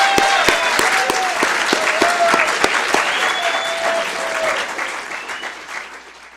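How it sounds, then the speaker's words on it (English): An audience at a San Clemente toll road town hall meeting applauds steadily with dense, close clapping that gradually tapers off. "that is worth applause for."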